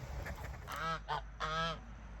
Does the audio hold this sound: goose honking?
yes